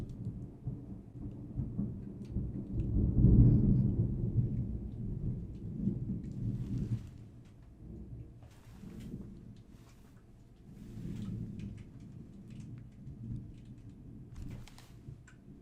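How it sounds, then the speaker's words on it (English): A real lightning strike sets off a loud, rolling thunder rumble that peaks early and then slowly fades, over the steady patter of falling rain, with no voices. "that lightning strike hit at the perfect time in this gosh dang video"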